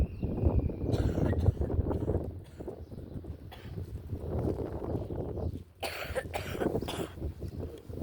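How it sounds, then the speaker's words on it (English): A few coughs, brought on by vape smoke, break out amid rustling and light movement noises in an outdoor herb garden, moderately close, with no clear talking. "That vape is making me cough."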